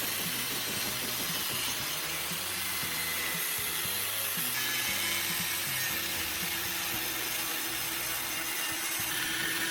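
Gray PVC pipe is cut lengthwise with a power tool, giving a continuous loud grinding whine with rhythmic rasping pulses throughout, close and without talk.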